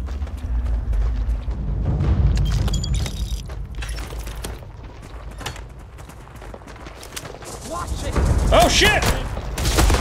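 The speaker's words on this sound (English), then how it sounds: "I don't know who's throwing the grenades" Grenades explode in the sci-fi game Starfield in heavy booming bursts, one cluster near the start and another louder one near the end, with clattering combat noise between and a brief excited shout.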